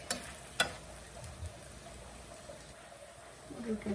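Parathas frying in a pan in a home kitchen, a steady faint sizzling hiss broken by a couple of sharp utensil clicks, with soft voices in the background.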